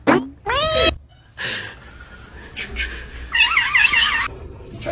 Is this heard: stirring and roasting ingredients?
no